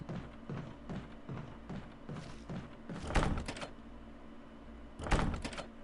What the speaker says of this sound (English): Door refuses to open.